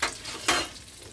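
Food is frying in a kawali (wok) for a simple home-cooked Filipino dish, with close, steady sizzling and a brief louder burst of crackle as it is stirred.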